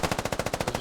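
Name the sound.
gunfire in a video game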